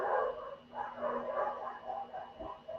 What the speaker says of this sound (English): they don't put them dogs up